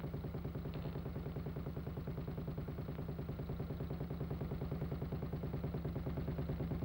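A Norton 16H motorcycle engine runs in a steady, even, rhythmic thumping at a moderate, unchanging pace, heard close and alone.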